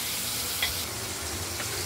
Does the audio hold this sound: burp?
no